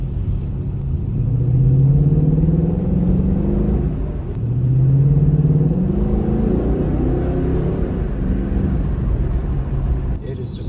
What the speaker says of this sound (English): The second thing I love about this car is definitely the power and the sound it makes.